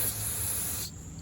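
Brake cleaner sprays onto a paper towel during a rear brake pad job on an Infiniti M and Q70, a short close pressurized hiss lasting under a second that then cuts off to quiet.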